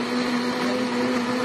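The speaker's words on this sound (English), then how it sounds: "And then we just kind of hit blend" A powerful high-speed blender runs steadily, whirring through herbs and scallion with a constant loud motor whine and churning roar, alone with no talk.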